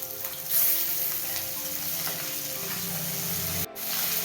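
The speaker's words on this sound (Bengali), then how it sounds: "কড়াই গরম করে তেল দিয়ে তার মধ্যে মাছগুলো দিয়ে দিচ্ছে" Fish frying in hot oil in a wok: a continuous bright sizzle and crackle, close and steady, with a brief sharp clatter near the end.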